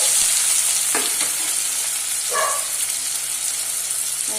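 Sliced onion with a little ginger garlic paste fries in hot oil with a loud, constant sizzle, broken by a couple of brief stirring clatters near the start and midway.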